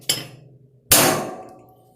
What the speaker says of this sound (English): Getting ready to center punch this hole